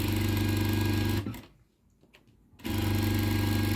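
A sewing machine stitching a puffy blouse sleeve runs in a loud, steady whir, stops abruptly for about a second and a half with faint handling sounds, then starts up again.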